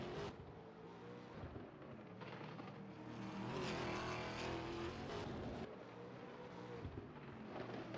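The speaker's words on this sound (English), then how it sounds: "Could have sworn I heard heaps of engines screaming then." Race car engines in a GT Club TA2 series racing game at Adelaide, a dense, steady roar of several screaming engines swelling louder in the middle, with no talking.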